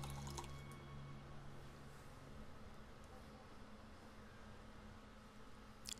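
In the video game Gray Matter, a water bottle is filled, a faint, steady trickle and gurgle of liquid running for several seconds beneath a low background hum, ending with a brief click.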